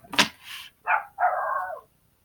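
A dog gives a few sharp barks up close, one quick yelp followed by two longer drawn-out barks, loud and alone with no talking.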